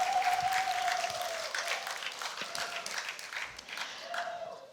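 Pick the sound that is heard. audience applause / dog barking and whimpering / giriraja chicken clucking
audience applause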